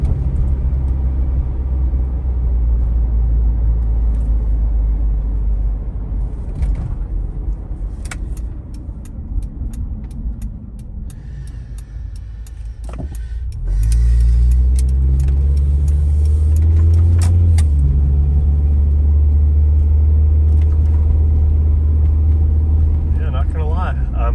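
A 1996 Honda CR-V on performance coilovers set to the hardest setting, its steady road rumble and engine drone filling the cabin, rising louder midway as it accelerates, with a person talking over it.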